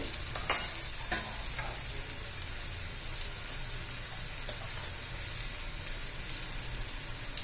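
Soft, continuous sizzling of garlic and turmeric frying in a pan, with a couple of light stirring clinks early on, close but fairly quiet and without talk.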